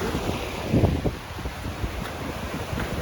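Water from a waterfall stream rushes and flows in a steady, loud broadband wash with small surges, heard alone and close.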